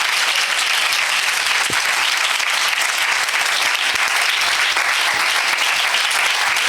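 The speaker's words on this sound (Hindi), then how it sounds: "जोरदार तालियां बज सकती हैं।" A church congregation at a Sunday sermon breaks into loud, sustained applause. The clapping is thick and continuous, filling the room evenly for several seconds.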